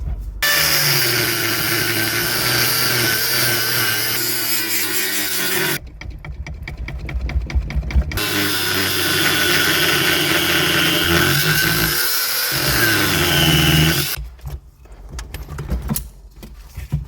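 Power tool cutting into metal on a BMW E36 during an M57D30 engine swap and hydraulic handbrake install, running loud and steady in two long bursts with a short pause between, then stopping near the end.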